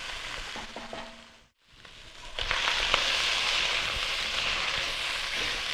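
Beef browning in a soup pot, a steady dense sizzle that dips to near silence for a moment, then returns louder and broader with occasional crackles and stirring scrapes; no talking.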